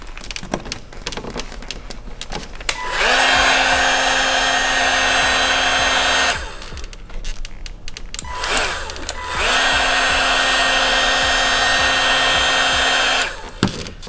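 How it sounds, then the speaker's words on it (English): A heat gun blows steadily on vinyl badge skin being fitted to a VW MK2 Tiguan badge. It makes two long, loud, close whooshing runs separated by a short pause filled with faint handling noises. "you're gonna take the heat gun, apply a bit of heat in this area where it bends"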